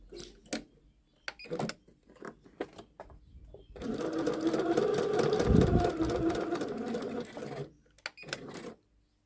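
A sewing machine hums through a burst of fast, continuous stitching along a folded dress hem, loud and close, framed by scattered clicks and handling noises before and after, with no voices.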